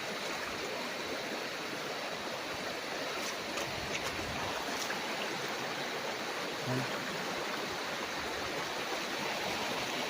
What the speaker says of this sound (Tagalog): Ang linis ng ilog mga kaprops, ang lamig pati ng tubig.